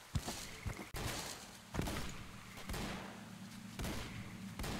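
Gunfire in the game STALKER: Call of Pripyat sounds as several sharp, booming shots spaced a second or so apart, with rumbling tails between them, at moderate loudness and with no voices.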